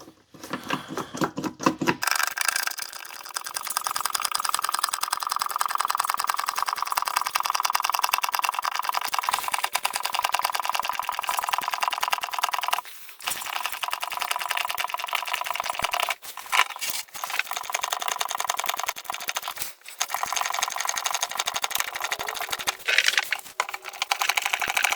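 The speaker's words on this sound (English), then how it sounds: "we're just going to pump this until fluid comes back out." A hand pump forces fluid into the transfer case of a Toyota Tundra, giving a steady, fast mechanical chatter that runs close and continuous, with a few brief pauses in the stroking.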